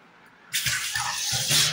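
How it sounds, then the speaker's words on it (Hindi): Tap water suddenly gushes into a kitchen sink, a loud steady splashing stream that runs on without a break, with low thuds beneath it. "पानी आ रहा है"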